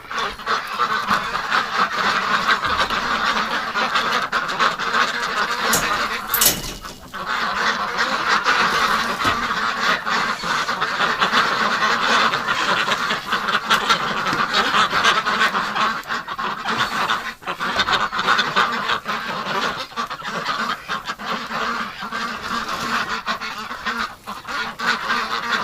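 Ducks and geese on a bitterly cold winter day with a wind chill around minus 28, a dense, continuous chorus of quacks and honks, close and loud, with no talk over it.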